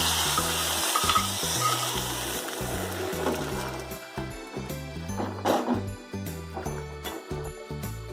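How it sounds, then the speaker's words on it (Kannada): A hot tempering sizzles loudly as it is poured into simmering pepper rasam, a strong hiss that settles into softer crackling and stirring clinks. "ಇದಕ್ಕೆ ಒಗ್ಗರಣೆ ಸೇರಿಸ್ಕೊಳ್ಳೋಣ."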